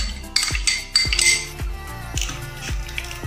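A metal spoon clinks and scrapes against a bowl while chicken cutlet marinade is mixed, a run of sharp close taps at an uneven rhythm, no voices.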